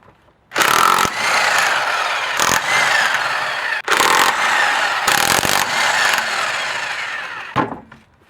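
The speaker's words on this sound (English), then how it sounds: "we're gonna take off the tire. Have my impact gun or electric gun" An electric impact gun removing a car tire on a 240SX: loud, close hammering bursts of rattling whine, several long runs broken by brief pauses, ending in a short final burst.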